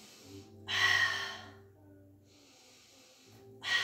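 Slow, audible breaths during a Pilates clam exercise with a resistance band: a long, airy inhale or exhale, a softer second breath, then another starting, close to the mic over a low steady hum.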